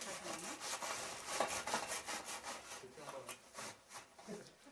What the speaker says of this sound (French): il faudra passer la règle quelques fois pour râper ses bosses